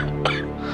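A single short cough bursts out once, close and fairly loud, against a quiet room hum.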